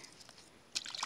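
A small bass released back into the water makes a short burst of close splashing and sloshing after a quiet lead-in.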